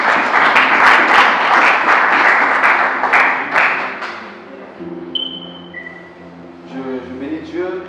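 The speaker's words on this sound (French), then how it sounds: "Acclamons très fort pour Jésus." A church congregation bursts into loud, dense applause and cheering for Jesus, the clapping fading after a few seconds into sustained musical tones and voices.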